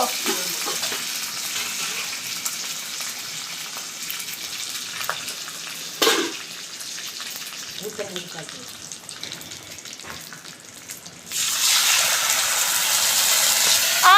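Steady sizzling and spattering of hot oil in a pan while frying fish curry, with a few sharp pops and clatters, growing louder and hissier near the end.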